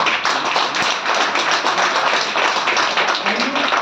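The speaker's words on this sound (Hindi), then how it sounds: "तो उनके लिए एक जोरदार ताली" A dense, steady burst of loud applause fills the hall as an audience claps hard and continuously at a business leaders' gathering.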